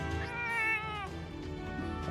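A cat meows in the video game Etrange Overlord, a single drawn-out, wavering meow heard close and clear over a low game music backdrop.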